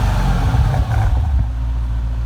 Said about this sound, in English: Rev it. Just a little bit. Just a little bit. Rev it.